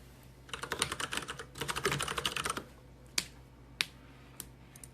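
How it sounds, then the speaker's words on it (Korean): A computer mouse shuffled rapidly back and forth on a desk gives close, rattling bursts of small clicks, followed by two sharp isolated knocks in a quiet room. "마우스 움직이는 소리"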